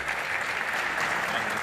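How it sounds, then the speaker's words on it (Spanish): Steady, dense applause from a conference audience welcoming a speaker on stage, loud and continuous throughout with no voices on top. "Fuerte aplauso para él."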